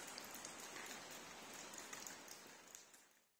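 Rain in a large abandoned steel and chain factory, water streaming and pattering down from a gutter pipe as a faint, even hiss that fades out at the end, with no voices.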